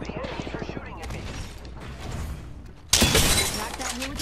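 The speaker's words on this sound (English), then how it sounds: "The enemies are shooting at me." Enemy gunfire in a shooter video game crackles under a player's talk, then a loud sharp burst of shots and shattering hits erupts near the end.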